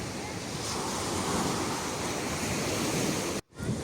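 Strong September wind blows on a Black Sea beach in Odesa Oblast, a steady loud roar of wind buffeting the microphone with surf beneath, cutting out briefly near the end.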